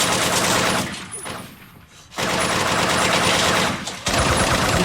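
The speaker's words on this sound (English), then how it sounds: "just shoot the ceiling" Gunshots fired into a ceiling in The Sopranos: loud bursts of rapid shots, then a brief lull and a sharp cut, then another burst and a final volley, with no talk over them.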